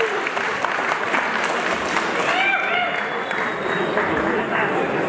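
Loud, sustained applause fills a crowded hall at a Patriot Fighting Championship MMA event ahead of a 77 kg title belt bout, with faint shouts and whistles riding over the steady clapping throughout.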